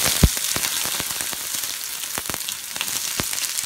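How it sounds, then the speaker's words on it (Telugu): Two medium onion pieces fry in hot oil with cloves, cardamom and cinnamon, giving a steady close sizzle broken by scattered sharp pops and crackles. "నేను ఒక రెండు ఆనియన్ ముక్కలు తీసుకున్నానండి ఇవి ఎర్రగా వేయించుకోవాలి"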